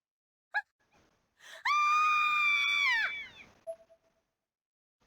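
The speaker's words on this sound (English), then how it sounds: "This was just about the last thing I expected. I couldn't help but scream." A loud, sustained scream of about a second and a half in the horror video game Corpse Party: Blood Drive, preceded by a short gasp and followed by a few faint breathy sounds and a brief tone.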